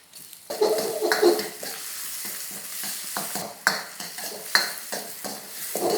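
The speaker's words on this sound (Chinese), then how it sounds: "虾肉炒一炒熟了" Shrimp meat stir-fries in a wok over a continuous sizzle, while a spatula scrapes and taps the pan in irregular strokes, close up and with no voices.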